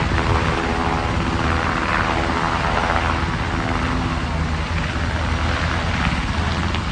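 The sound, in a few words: toy helicopter sound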